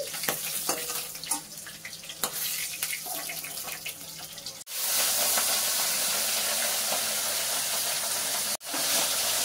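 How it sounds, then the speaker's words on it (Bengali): Pieces of katla fish frying in hot oil in a home kitchen, a steady close hiss and sizzle with scattered pops, turning louder and denser in the second half with two brief breaks, no voices. "লাল লাল ভাজা হয়ে গেছে, এবার তুলে নিচ্ছি"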